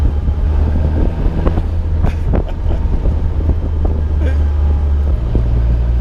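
The small Caterham Seven 160S sports car's engine drones in a steady, heavy low rumble, buffeted by strong wind noise, with occasional clicks and knocks over the top.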